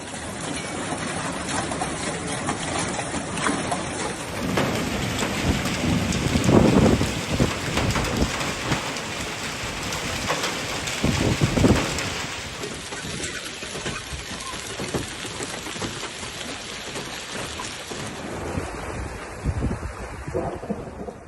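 A heavy rainstorm lashes Yanbu, Saudi Arabia, with hail falling: a loud, continuous broadband roar of rain and wind buffeting the microphone, swelling in gusts across the whole stretch.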